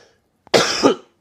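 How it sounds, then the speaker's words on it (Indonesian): A group of people cough on instruction during a guided therapy session, a short loud burst of harsh coughing followed by the start of another cough. "Ya, batuk-batukan teman-teman."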